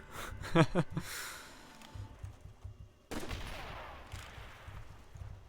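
M1 Garand rifle fire in the zombie video game Shi no Numa, a quick burst of sharp loud shots near the start followed by another crack and softer lingering game ambience and rumble, with no speech.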